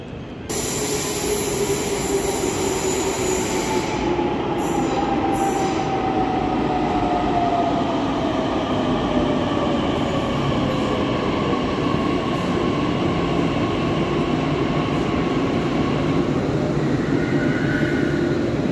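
A Pune metro train rolls into a station platform, a loud sustained rumble and whine that holds steady and then slides lower in pitch as it slows, with a brief hiss at the start.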